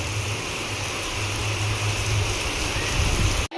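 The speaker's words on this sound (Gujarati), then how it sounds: "ઓહો ફૂલ જોરદાર વરસાદ. પવન સાથે 5 વાગ્યામાં મિત્રો." Heavy rain falls steadily with wind at about five o'clock, a dense, continuous wash of noise close by that holds even and loud throughout, then cuts off sharply right at the end.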